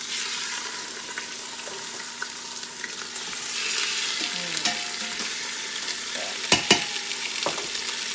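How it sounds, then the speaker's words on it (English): Beef sizzles in about two tablespoons of hot olive oil in a pan, a steady bright frying hiss with a few sharper crackles and pops near the end, no talking. "You'll hear that sizzle."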